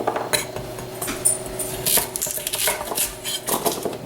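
Vegetables being peeled with a ceramic peeler in a home kitchen while preparing pot roast, giving repeated light scraping strokes with small clinks of utensils, close and fairly quiet, with no talking.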